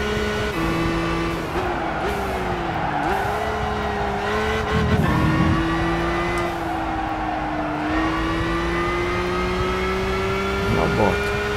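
A Nissan Skyline GT-R V-Spec II Nür R34 from 2002 accelerates in Gran Turismo 5 online racing, its engine note climbing through repeated gear shifts. Brief tire squeals and other cars are heard in the race.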